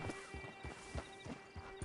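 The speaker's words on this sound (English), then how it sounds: "Get on the horse when you're ready." A horse's hooves clip-clop at a steady trot in the video game Red Dead Redemption II, rhythmic and moderately near over a faint ambient background.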